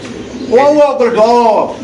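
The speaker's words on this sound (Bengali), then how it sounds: "এখানে আছে এক পটার কবুতর আপনি দেখতে পাচ্ছেন মার্শাল কোয়ালিটি কালো" A pair of black fancy pigeons of Marshal quality coos in two close, rounded phrases, loud and near, with no talk over them.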